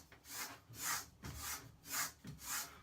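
Straight razor, a Victor Creazzi full hollow blade, stropped in even back-and-forth passes, soft rhythmic rubbing strokes about two per second, close and quiet.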